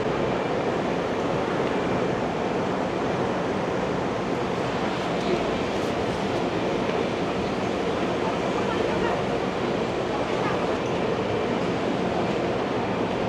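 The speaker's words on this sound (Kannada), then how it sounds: "ಬಂದೇ ಬಿಡ್ತು ನೋಡ್ರಿ ನಂದು ಲೋಕಲ್ ಟ್ರೈನು" A loud, steady rumbling roar of a rural local train in Taiwan pulling in at its last stop, a continuous heavy wash of noise with no break.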